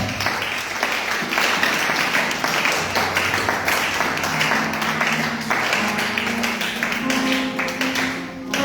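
A church congregation claps loudly and steadily for the Lord, a dense continuous wash of many hands with a faint voice or tone near the end.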